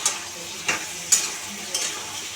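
Malabar spinach being stirred while it fries in a pan, with a soft continuous sizzle under four distinct scraping strokes of a spatula spaced roughly evenly apart, close by.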